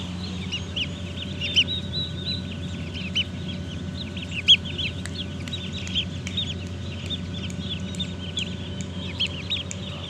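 Many chicks in a poultry brooder give dense, high, overlapping peeps and chirps that continue steadily over a low background hum, with no talking.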